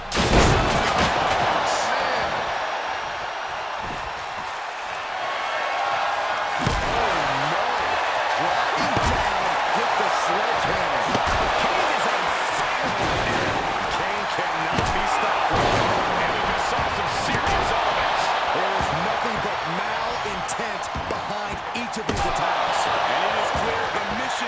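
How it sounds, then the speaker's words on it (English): Punches land in a WWE 2K24 wrestling match between Kane and the Hurricane on a Raw 2002 card, played on PS5: repeated heavy impacts thud through a constant roaring arena crowd while a commentator talks throughout. "There's some power behind that punch."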